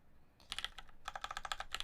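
Quick bursts of typing on an HB60 mechanical keyboard with Cherry Brown switches, crisp clustered clacks close to the microphone after a quiet start.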